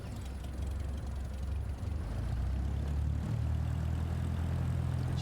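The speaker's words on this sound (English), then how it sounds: "Just adding a little bit of engine power just to keep the plane steadily rolling, and then dropping the engine back down to idle" In Flight Simulator 2024, a plane's engine idles while it taxis, a steady low droning rumble with propeller hum that rises slightly in power partway through, continuous and close, with no talking.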